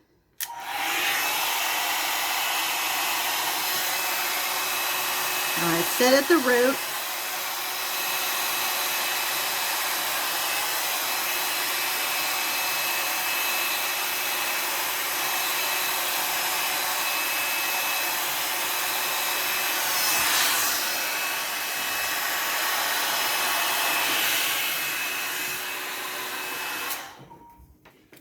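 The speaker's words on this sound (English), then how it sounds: "with the hair dryer" L'ange LeVolume 2-in-1 brush hair dryer blowing steadily and close, a continuous airy whine, with one brief spoken line partway through.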